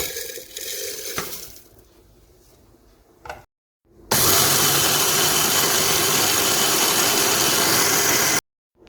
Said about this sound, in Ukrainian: Вівсянку переб'ю у блендері.